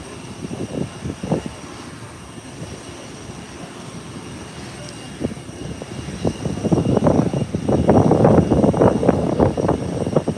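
An aircraft at Howard Hamilton International Airport, a steady distant engine rumble that swells into a louder roar with rattling thumps and clatter, no speech.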